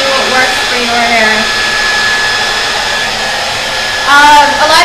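A blow dryer runs steadily close by on natural hair, a constant whirring drone that swells louder near the end as the airflow shifts.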